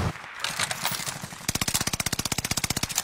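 Rapid automatic gunfire in a video game, first a scattered burst then a fast, evenly spaced volley of sharp shots, loud and close.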